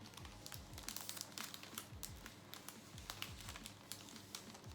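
Paper being folded and creased by hand for a Valentine's gift box, with soft crinkling and crisp tapping creases in quick irregular bursts, close and fairly quiet, no talking.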